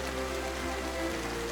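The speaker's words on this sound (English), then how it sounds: "these waves crashing and the rain pouring down" Heavy rain pours steadily down as a dense, constant hiss with a low rumble underneath, without pause and with no voices, like a downpour over a ship's deck in rough seas.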